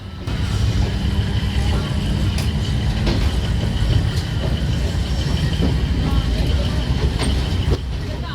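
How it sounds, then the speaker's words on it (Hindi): A passenger train at Kapurthala railway station, on the single line toward Jalandhar, gives a loud continuous rumble from inside the carriage with scattered rattles and clunks throughout. "कपूरथला से जालंधर के लिए रवाना होते हुए हमारी train Kapurthala railway station Firozpur division में आता है"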